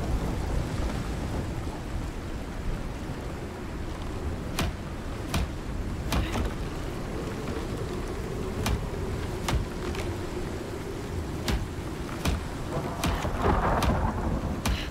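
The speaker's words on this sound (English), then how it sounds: "Sounds like the storm's over now." A thunderstorm in the survival game Icarus: steady heavy rain fills the background while sharp thunder cracks strike repeatedly, a dozen or so close bursts over a continuous wash of downpour, with no talking.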